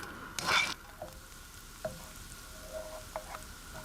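Onions fry in cold-pressed rapeseed oil in a pan with a soft, steady sizzle, broken by a brief louder scrape of stirring near the start and a few light clicks.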